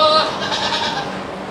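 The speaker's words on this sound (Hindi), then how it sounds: "ये देखो मिल्किंग की कुछ बकरियां इसके अंदर हैं।" Milking goats in a pen in Singapore give a loud, close, wavering bleat that fills the short moment, with a faint voice in the background.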